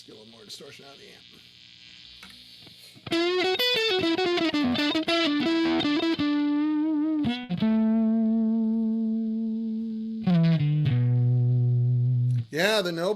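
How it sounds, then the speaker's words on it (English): Electric guitar driven through amp distortion, a stretch of quiet playing giving way to loud, saturated chords and sustained notes with fuzzy overtones, pausing briefly between phrases. "Let's get a little more distortion out of the amp."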